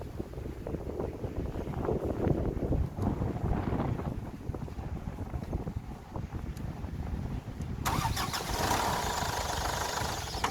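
A 3-liter MGW1200 diesel engine cranks and catches on a portable jump starter, then runs with a steady rumble under gusty outdoor wind, with a brighter mechanical roar rising near the end.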